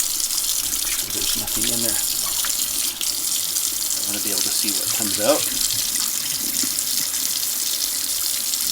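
Tap water runs steadily into a sink while a part from a 1950 Coleman 220D lantern is rinsed out. Someone talks over the constant splashing flow.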